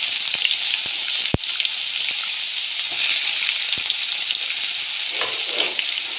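Onion frying in a pan with salt and hing, a loud steady sizzle close by with a few sharp clicks of a spoon against the pan.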